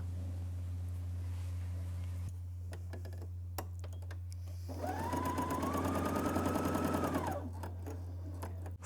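Bernina L 620 coverstitch machine running with differential feed set for gathering fabric: a steady motor hum, some clicks, then a few seconds of fast, rhythmic stitching, close and clear.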